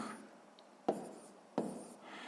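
Numbers written by hand while adding fractions in a sixth-grade maths exercise: soft, scratchy strokes with two sharp taps spaced under a second apart, quiet and close, with no talking.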